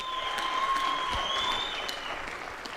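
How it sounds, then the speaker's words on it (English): A theatre audience at a boxing event applauds both boxers after an eight-round bout, with dense, sustained clapping and crowd noise under a faint tonal hum. "Let's give both of these boxers a big round of applause."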